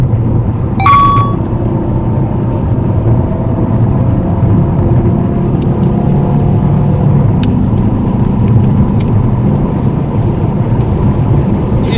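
A Volvo V40 D3 diesel car races at a Thruxton track day with continuous loud engine and road roar from inside the cabin. A brief sharp metallic chime sounds near the start.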